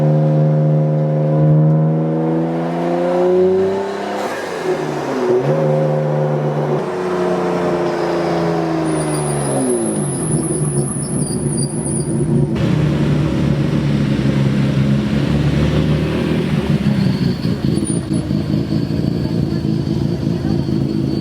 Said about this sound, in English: this is the only time that we're gonna drive the R34 through the driveway, facing forward